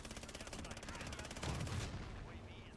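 Finn LMG fire in a Call of Duty Warzone match, a rapid rhythmic burst of automatic shots through the first half, followed by a heavier blast and fading noise, with faint voice underneath.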